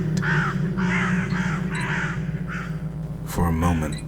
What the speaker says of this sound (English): You hear the sounds of moans and crows in the night.